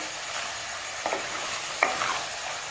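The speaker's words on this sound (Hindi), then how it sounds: "इसको और मैं 5 मिनट के लिए और भूनूंगी कि सुर्खी माइल हो जाए" Chicken jalfrezi sizzles steadily in a pan, with two short scraping stirs cutting through the constant frying hiss.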